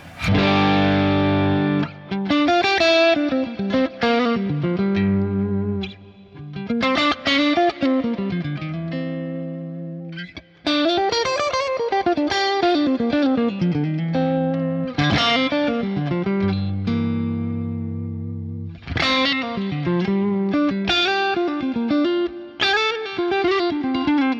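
Electric guitar chords played through a Fender Deluxe Reverb tube amp's vibrato channel with pulsing vibrato and some distortion, loud and continuous with brief gaps between phrases.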